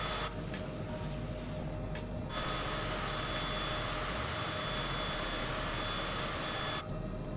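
A Cessna CJ4 business jet taxis in a flight simulator, its engines giving a steady whining hum with a constant high tone, broken briefly by a dip and return of the broadband rush.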